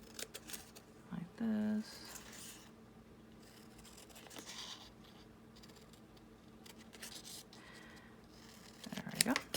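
Scissors cut out a paper tag, giving brief snips and scraping rubs of blade on paper, quiet and close, scattered between soft movements, with someone speaking briefly.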